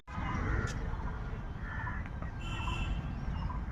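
Ducks at a small duck house in a park give faint, scattered quacks and clucks over a steady, noisy outdoor background, with no clear talking.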